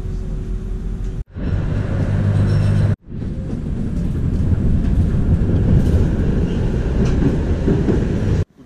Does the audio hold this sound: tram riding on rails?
yes